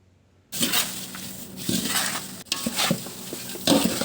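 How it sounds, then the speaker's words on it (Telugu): Poha mixture with roasted peanuts and roasted gram is stirred in a pan. After a brief silence, a steady, close, gritty rustling and scraping begins, broken by occasional clinks of the spoon. "ఆ తర్వాత మనం ముందుగా వేయించుకున్న పల్లీలు, పుట్నాలు ఇందులో వేసుకుందాం. వీటిని కూడా ఒకసారి మళ్ళీ మనం బాగా కలుపుకుందాం."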